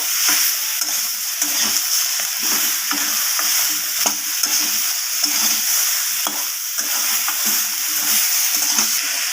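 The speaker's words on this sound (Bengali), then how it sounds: "এরপর আদা রসুন লবণটাকে আবারও সব কিছুর সাথে এইভাবে কষিয়ে নেব" Ginger, garlic and salt are sautéed with other ingredients in a pan for a prawn and bitter gourd dish, giving a steady loud sizzle under repeated scraping stirs throughout, with no talk.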